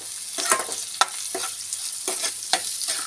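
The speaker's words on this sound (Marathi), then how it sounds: "व्यवस्थित तेलावर शिजवून घ्यायचे आहे हळद वगैरे." Turmeric, salt and sugar fry in oil for kanda poha, a bright continuous sizzle punctuated by regular stirring scrapes and taps of a spoon, close up with no talking.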